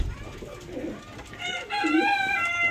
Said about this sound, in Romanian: o să trec și la porumbei